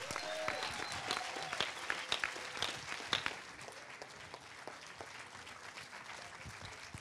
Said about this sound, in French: Nous vous demandons de l'accueillir sous un fracas d'applaudissements